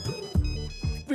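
A mobile phone rings with an incoming call, a melodic electronic ringtone repeating short tonal phrases, clear and close, with a faint voice briefly underneath.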